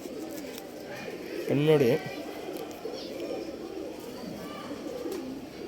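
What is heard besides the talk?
pigeons cooing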